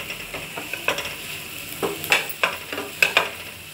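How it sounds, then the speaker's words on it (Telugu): Okra frying in a pan over a low flame while being stirred, with a steady soft sizzle and repeated scraping stirs at an irregular rhythm, close by and moderately loud. "ఇలా సన్న సెగ మీద మనం వేయించుకోవాలి. ఇలా వేయించుకుంటూనే ఉండాలి సన్న సెగ మీద."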